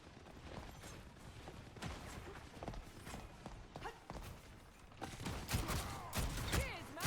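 Marvel Rivals gunfire crackles in bursts of sharp shots over busy game action, growing denser and louder toward the end.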